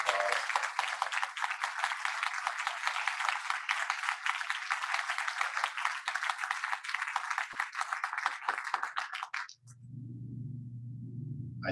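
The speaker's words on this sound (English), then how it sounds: "Let's give him a round of applause." Audience applause rises at the end of a talk session, dense steady clapping for about nine seconds that breaks off abruptly, leaving a low hum.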